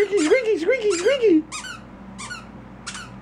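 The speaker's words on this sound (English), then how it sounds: "Squeaky, squeaky, squeaky, squeaky." A squeaky dog toy squeaks in a quick series of sharp, high chirps, first rapid and clustered, then in spaced single squeaks. A voice speaks over the first part of the sequence.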